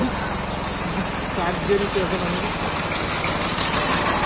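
A truck engine rumbles steadily on a flooded main road, a continuous loud low drone with vibration, while people talk over it.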